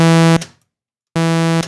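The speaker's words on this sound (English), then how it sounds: "Nothing too special, just a raw saw." Raw sawtooth oscillator from a Tal-Mod modular synthesizer plays two loud, buzzy, harmonic-rich sustained tones of about a third of a second each, separated by a brief silence, with no other sound.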